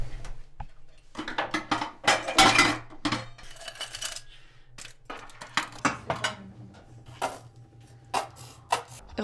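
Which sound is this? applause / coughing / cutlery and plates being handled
cutlery and plates being handled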